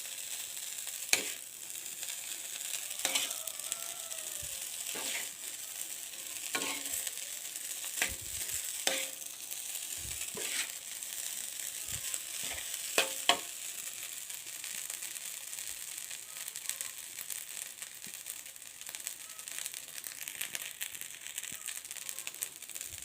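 Spicy fried rice with wild boar meat sizzles quietly in a pan, with intermittent scraping and clattering stirring strokes scattered across a long stretch of steady frying hiss, no voices.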